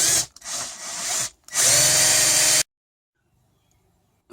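Power drill boring holes in a metal piece for pop rivets during a Volvo XC90 wiper repair: two short bursts then a longer whining run, close and loud, ending abruptly in near silence.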